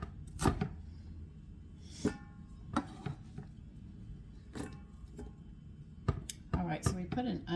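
An onion is chopped on a cutting board in a home kitchen: sparse, sharp knife knocks spaced a second or more apart, then a quicker cluster near the end, with faint kitchen sounds and occasional talking.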